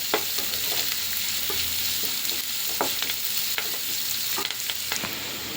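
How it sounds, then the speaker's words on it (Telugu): Onions and curry leaves fry in a pan with a soft, continuous sizzle and frequent light clicks of stirring, close by and fairly quiet, with no talk. "కరివేపాకు వేసుకుని ఇవన్నీ బాగా వేగాలి మనకి."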